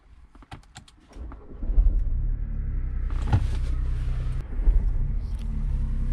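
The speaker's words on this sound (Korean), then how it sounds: "시동을 거는 버튼은 대시보드에 있는 빨간색 레버를 눌러주면 시동이 걸리는 방식인데 시동을 한번 걸어 보도록 하겠습니다" A 2020 Mini Cooper 5-door starts from its red dashboard toggle: a few clicks, then the engine catches and settles into a steady low idle rumble, heard close from inside the car.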